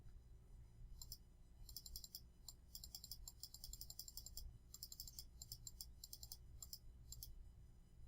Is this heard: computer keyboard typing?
yes